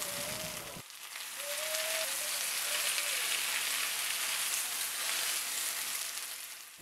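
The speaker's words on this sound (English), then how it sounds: "In the same pan, add the Swiss chard." Swiss chard hitting a hot pan, a steady broadband sizzle of frying leaves that holds loud and even for several seconds after a brief tonal beep at the start.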